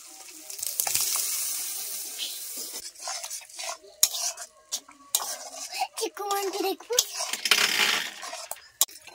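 Boiled chana dal and its cooking water tipped from a pressure cooker into a hot pan of fried spices, with wet splashing, spoon scrapes and clinks against metal, close and uneven, a voice briefly speaking.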